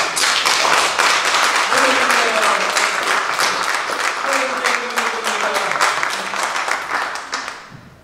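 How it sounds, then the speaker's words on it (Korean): Loud, sustained clapping from a church gathering's audience during a ministry report, a dense wash of claps lasting several seconds with faint voices underneath before it fades out at the end. "큰 박수로 한번"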